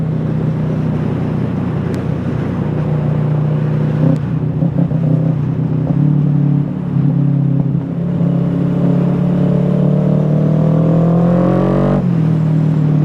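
A 2017 Kawasaki Ninja 650 motorcycle engine drones steadily while riding, a loud close low hum with shifting pitch that rises as it accelerates near the end, wind rush underneath, no talking.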